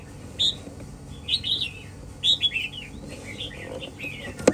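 A caged hwamei songbird sings in a short series of bright, varied chirping phrases, close and clear over a low background hum.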